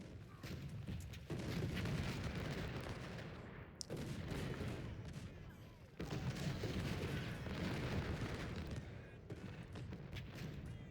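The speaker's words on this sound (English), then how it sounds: "that's the raking fire of these cannons" Cannon fire in the Civil War strategy game Ultimate General: Civil War, Fredericksburg battle: a dense, continuous rumble of distant booming artillery with a few sharp cracks, sustained throughout at low volume.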